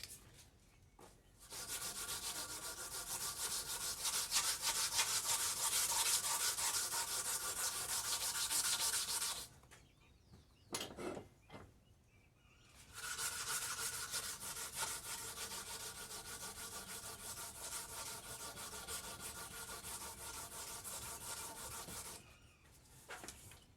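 A wooden handle for a 10-inch língua de chimango knife is sanded by hand with fine sandpaper, giving steady close-up scratchy rubbing in two long strokes-runs separated by a brief pause, with no talking.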